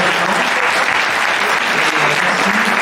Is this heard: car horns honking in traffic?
no